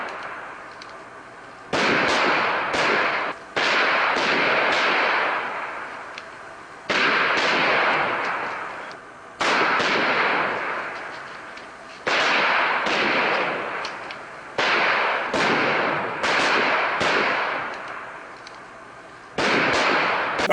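Western movie shootout gunfire: a series of sharp, loud cracking shots in clustered volleys, each trailing off in a reverberant decay, with brief quiet gaps between bursts.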